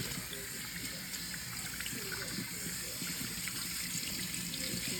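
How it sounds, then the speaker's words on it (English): Water runs steadily from a tap while a Persian cat is washed, a continuous hiss and trickle with faint splashing, close by and fairly quiet. "They hate this because it's spraying water everywhere."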